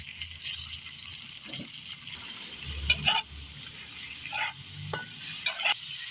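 Bone-in mutton sizzling steadily in hot mutton fat, with occasional scrapes and clinks of a utensil stirring the pan.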